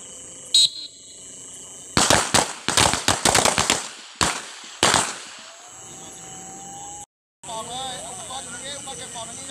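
A rapid string of sharp gunshots fired in quick bursts, fairly close, followed by a quieter stretch with faint background sounds.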